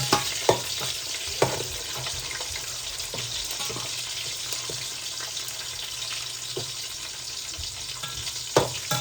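Mustard and fennel seeds fry in hot oil for a mutton curry, giving a continuous sizzle broken by sharp pops and crackles, close and fairly loud, with no voices.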